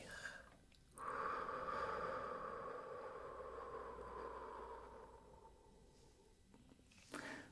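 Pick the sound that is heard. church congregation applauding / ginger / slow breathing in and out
slow breathing in and out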